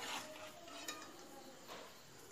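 Chicken cutlets frying in a pan, a quiet, steady sizzle with faint scraping and light utensil clinks, heard alone at low volume.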